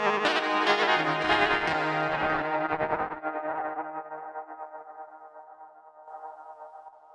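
Hologram Electronics Chroma Console guitar pedal running its interference effect: a loud, dense, warbling and distorted tone that breaks off and fades through a long, wavering echo tail.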